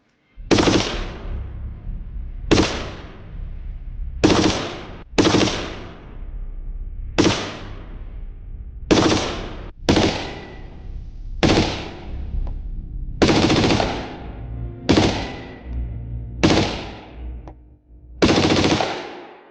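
Gunfire comes from a concealed shooting position: about a dozen loud, sharp single shots spaced one to two seconds apart, each with a short decaying echo, and no talking.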